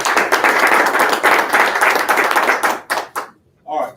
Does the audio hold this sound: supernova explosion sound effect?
no